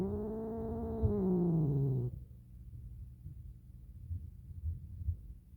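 A calico cat gives a drawn-out, falling grumbling yowl for about two seconds, then goes quiet apart from soft low rumbles and faint thumps.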